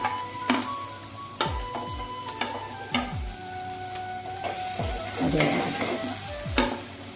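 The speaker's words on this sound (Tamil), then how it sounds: "இப்போ 4 பச்சை மிளகாய் கட் பண்ணிச்சு அதையும் நம்ம சேர்த்து வதக்கலாம்." Green chillies and curry leaves sauté in oil in a pan, with steady sizzling and a few sharp clacks of the spoon against the pan at irregular intervals. There is no talking.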